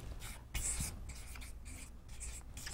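A pen or marker scratches across a board in a series of short, rubbing strokes, close and moderately quiet, with no voice over it.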